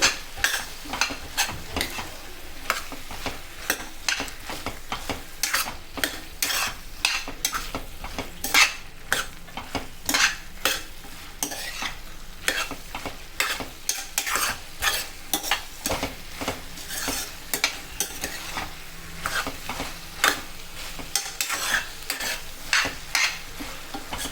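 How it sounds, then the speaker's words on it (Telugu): Aloo capsicum curry of potatoes and bell pepper pieces stirred in a pan: rhythmic, loud metal scraping and clattering strokes repeat steadily over a soft, constant frying sizzle, with no talking. "మంచిగా మిక్స్ చేసుకోండి"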